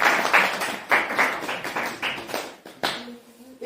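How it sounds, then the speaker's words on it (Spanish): A short burst of clapping from a church audience in a Spanish-language service, uneven and somewhat rhythmic with distinct claps rising and falling, fading out toward the end. "dame un aplauso, por favor"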